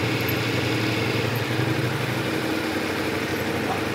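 A motorcycle engine runs steadily as the bike pulls away slowly, a dense continuous mid-pitched drone, loud and close with no talking.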